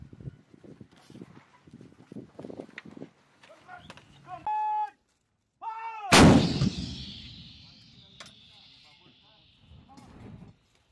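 Artillery gun firing during a bilateral Marine live-fire exercise with Philippine Marines: one loud, sharp blast with a long rumbling tail, preceded by shouted commands and a whistle-like signal, with voices continuing around it.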